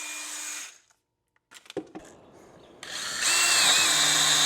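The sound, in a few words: DeWALT brushless compact Atomic drill running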